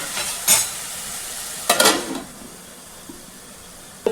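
Onions fry with salt in a pan while a spoon stirs them in two short scraping bursts over a low sizzle, close and without talk.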